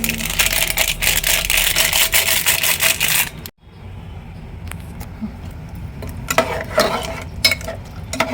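A pot of sambar with a whole packet of Everest sambar masala being stirred, scraping and swishing at close range, breaking off briefly before lighter stirring and clinks resume.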